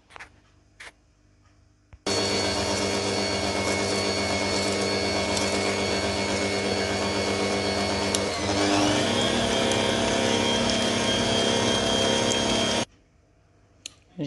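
A stand mixer whirs loudly and steadily for about eleven seconds as it beats eggs, sugar, vanilla, nutmeg and a pinch of salt for a giant cookie cake, starting and stopping abruptly.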